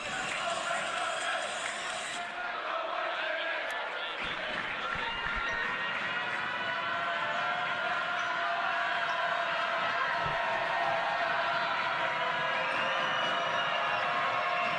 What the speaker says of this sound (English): This Penn crowd going to try and get loud.